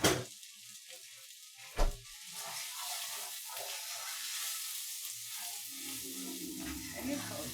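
Rice browns in olive oil and butter in a pan with a steady, gentle sizzle. Utensil scrapes and knocks break in now and then, including a clear thud early on and a stirring rustle near the end.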